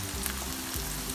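Ground meat frying in a pan, a brief steady sizzle with faint stirring scrapes, close and even, no voices.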